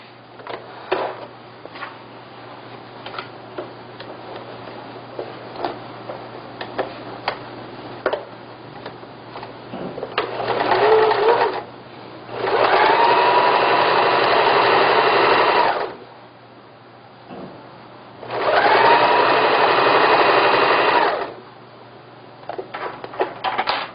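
A domestic sewing machine stitches a seam in cushion fabric for a traditional Korean floor cushion, running in two sustained bursts of steady whirring needle chatter, preceded by softer handling clicks and taps of the fabric and pins.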